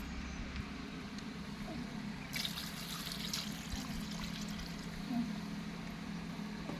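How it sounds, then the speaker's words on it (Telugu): Water pours into a pot of country chicken curry with a soft trickle and splash, rising after a brief quiet start and staying faint and close. "ఇంకొంచెం వేయాలి వాటర్"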